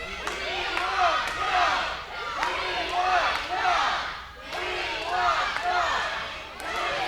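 A wrestling crowd at an OVW TV event chants in rhythm, a large group of voices rising and falling in repeated waves at a fairly loud level with thuds mixed in.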